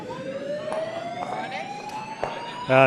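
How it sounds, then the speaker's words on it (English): A loud siren wails with a slowly rising tone that holds steady, ending in a sudden louder burst of noise, at a curling bonspiel. "You can certainly hear the siren"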